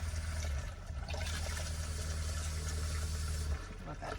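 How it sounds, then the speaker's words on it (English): Water runs from a tap in a kitchen in a steady, close hiss that holds evenly and then eases slightly near the end, with no voices. "See, I had to turn the water on."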